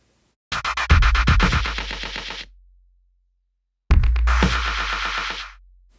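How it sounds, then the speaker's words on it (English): Eight static, centered delay taps from a Soundtoys delay plugin form a fast rhythmic pattern of punchy, loud hits. The pattern plays in two bursts separated by a short silence. "So it's 8 delay taps. They're all static. They're all in the center."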